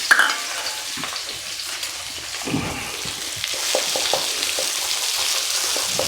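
Sliced onions sizzle and crackle in a hot wok for egg hakka noodles, with a steady frying hiss and intermittent scraping stirs close by, and no talking.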